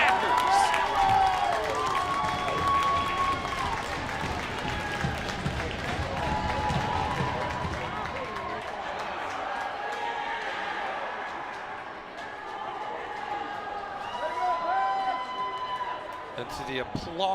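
A boys high school hockey crowd in South St. Paul applauds and cheers in a steady, loud roar that swells and eases, while an announcer talks over it.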